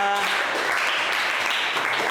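Classroom applause from students, a steady wash of clapping that fills the whole short moment, with a voice faintly underneath.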